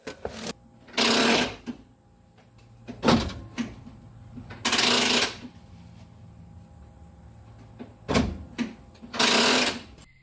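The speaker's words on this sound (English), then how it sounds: "I'm going to actuate the brake and give you an idea of how this works" A Ford 8.8 rear axle parking brake, installed in an S10 truck with an LS swap, is actuated: loud, close mechanical whirring bursts repeat about five times, separated by quieter clicks and low hum.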